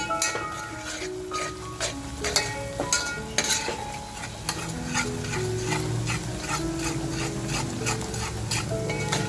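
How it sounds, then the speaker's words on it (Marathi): Homemade masala spice mix frying in oil, a bright crackling sizzle with clattering stirring at the start that settles into a steady frying hiss. "हा आपला घरगुती मसाला घेतला आहे तो टाकते मस्त आपल्याला हे फ्राय करून घ्यायचं आहे तेलाबरोबर"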